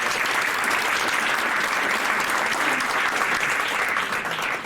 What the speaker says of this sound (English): let's give the Lord a clap for that